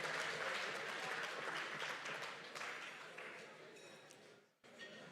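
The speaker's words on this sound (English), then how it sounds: "Can we give a hand of applause to each and every one of you?" Audience applause at a university's 60th anniversary Diamond Jubilee gala dinner, steady moderate clapping that gradually fades, with a brief gap and a short resumption at the end.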